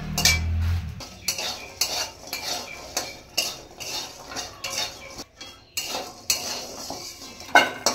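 Lentil dumplings (bori) frying in oil in a wok while a metal spatula stirs them, giving repeated scraping clinks and knocks in an irregular rhythm over a soft background sizzle.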